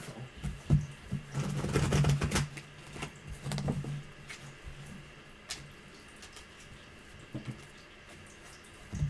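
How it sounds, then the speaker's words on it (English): Tarot cards being shuffled, heard as soft scattered riffles, pats and rustles in clusters, fairly faint and close against a quiet room background. "All right, one more shuffle."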